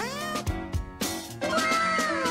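A cat meowing close and loud, several short meows in quick succession followed by a longer drawn-out meow, with no talking.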